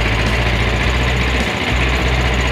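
A Yamaha Mio motorcycle engine runs steadily with a dense mechanical buzz and rattling hum, loud and close throughout.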